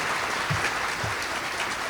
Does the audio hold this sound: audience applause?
yes